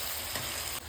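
Yogurt-marinated meat dropped into hot spiced oil for a Bengali doi mangsho, giving a short, dense, steady sizzle up close with no talking.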